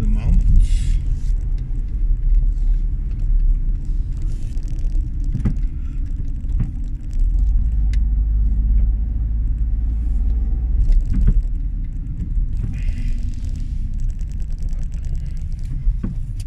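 A car climbs a mountain road toward the Austrian border in Tyrol, its engine and tyre rumble steady and close throughout, with occasional brief voices over it.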